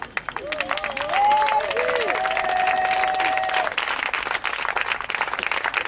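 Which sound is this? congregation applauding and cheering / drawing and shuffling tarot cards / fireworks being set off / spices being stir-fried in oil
congregation applauding and cheering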